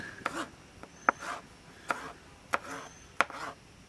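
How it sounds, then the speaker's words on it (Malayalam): Tomatoes being finely chopped with a knife, a handful of separate crisp taps on a board at an uneven, unhurried pace, quiet and close. "തക്കാളി അരിയുമ്പം നമ്മൾ ചെറുതായിട്ട് വേണം അരിയാൻ"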